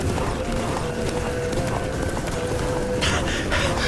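Hooves of Roach, Geralt's horse in The Witcher 3, clopping at speed amid loud continuous game ambience and rumble, with a brighter burst of noise toward the end.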